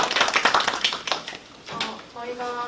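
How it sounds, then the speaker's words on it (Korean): A classroom audience claps for the final presenter at a university geography education mock lesson, a short burst of scattered clapping that fades after about a second before a voice begins talking. "우리 도유환 선생님 박수 모시겠습니다"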